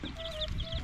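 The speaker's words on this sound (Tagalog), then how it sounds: "Bago tayong sisiw." Newly hatched chicks peep in a brief burst of thin, high repeated chirps, close by, alongside faint low clucking from a hen in a backyard coop.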